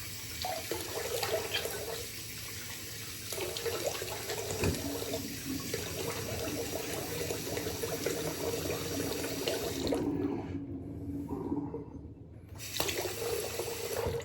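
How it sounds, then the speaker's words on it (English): Hot water runs steadily from a bathroom tap into a sink while rinsing after a shave, a continuous close splashing stream that briefly cuts off and then resumes. "Some more hot water."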